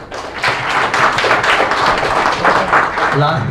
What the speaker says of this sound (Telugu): ఒకసారి అందరూ మేడం కోసం క్లాప్స్ కొట్టండి